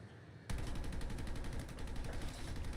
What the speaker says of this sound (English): Which means I have a bolter that never ends.